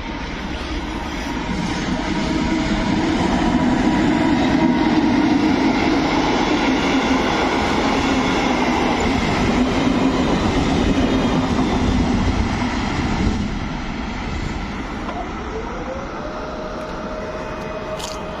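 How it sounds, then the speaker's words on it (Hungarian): A passenger train rumbles past nearby, a loud steady roar of wheels on rails lasting many seconds, easing slightly toward the end. "Szerintem csak sima személyi vonat lesz."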